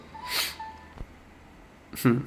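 Two quick, close nasal sniffs about a second and a half apart, with a faint click between them and no talk.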